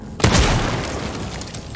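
Gunshot in the video game Dishonored 2 breaking a nest: a single sudden booming blast followed by a roaring, noisy decay lasting over a second.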